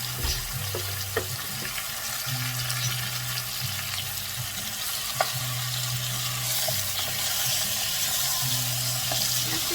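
Onion browns in olive oil with curry while a butternut squash soup base is made, giving a steady sizzle under rhythmic stirring scrapes and a few clinks, close and without speech.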